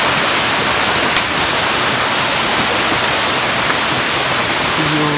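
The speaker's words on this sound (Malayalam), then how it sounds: "ഈ വെള്ളച്ചാട്ടത്തോട് വീട് പറയാം." A waterfall in a forest roars as a steady, dense rush of falling water, close and loud, unbroken for several seconds with no speech.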